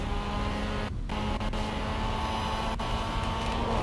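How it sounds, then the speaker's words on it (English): A car drifting in the video game Forza Horizon 4 holds a steady, loud engine drone throughout, with brief dips in the roar and no talk. "Got that nice drift going"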